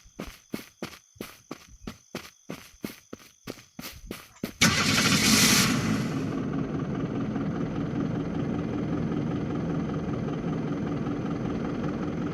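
Fire truck engine in the Unturned video game: a run of regular footstep thuds gives way to an abrupt engine start with a brief hissing burst, then a steady idling drone continues alone.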